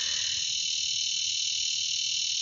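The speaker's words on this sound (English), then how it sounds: "A cicada, apparently not approving of story time in the cornfield." A cicada in a cornfield gives off a loud, steady, high-pitched buzz that runs unbroken through the whole stretch, with faint low rumble underneath and no talking.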